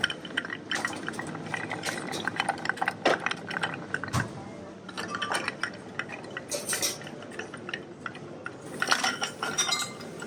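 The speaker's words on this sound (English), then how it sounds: "we stir over ice cubes for almost 20 seconds" Bar spoon stirring a Negroni with Campari over ice cubes in a mixing glass, a steady run of light clinks and rattling ice close by, with no talking.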